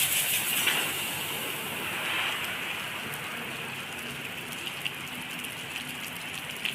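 Heavy rain pours steadily over a coal mine in southern Laos, a constant broadband hiss of drops on surfaces that stays even and close throughout with no talk.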